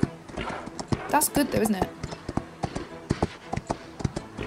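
Horse hooves clip-clopping in the video game Equestriad World Tour, a steady run of close, crisp hoof taps with a brief whinny, under a player's talk.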